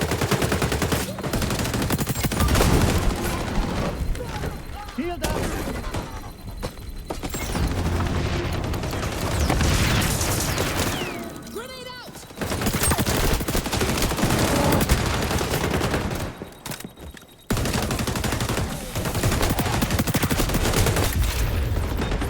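Rapid bursts of automatic rifle fire and booming shots in the fast-paced shooter XDefiant, loud and nearly continuous with short pauses between volleys, no talk over it.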